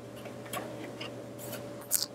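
Sewing scissors snip thread after a back-stitched seam, a few faint light clicks over a steady background hum, ending with one sharper cut.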